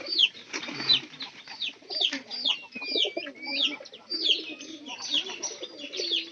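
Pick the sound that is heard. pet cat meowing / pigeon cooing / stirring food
pigeon cooing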